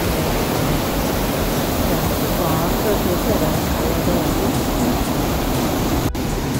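A Norwegian waterfall pours in a loud, unbroken roar heard from nearby, with a short spoken remark near the end over the constant rush.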